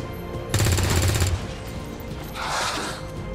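Rapid automatic gunfire sounds in the XCOM 2 video game, a loud burst of about a second followed by a softer hissing effect, with no talk.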